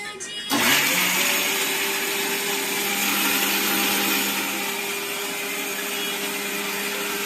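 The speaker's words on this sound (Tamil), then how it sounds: "மிக்ஸி போடு." A mixer grinder whirs loudly and steadily after starting abruptly, a continuous high-pitched motor hum with a faint voice underneath.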